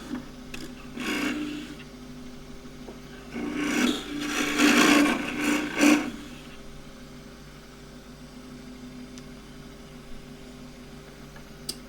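Scraping and rasping bursts come from a lathe gouge cutting green elm while a small pot is turned. Several short cuts are followed by a louder sweeping stretch, and the clip then falls to a faint hum.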